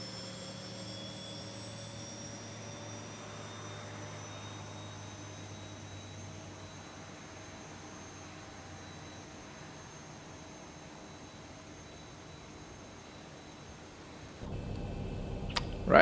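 A simulated Zibo Boeing 737 jet engine in X-Plane 11 spools up with a steady, faint whine and low rumble holding throughout, ending in a sudden louder burst of clatter.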